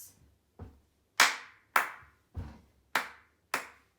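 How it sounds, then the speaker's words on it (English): A foot stamp followed by two sharp hand claps repeats in a clear triple rhythm, each hit loud and close with a short decay and silence between the strokes. "you're going to stamp your foot on beat 1, and then you're going to clap on beat 2 and beat 3"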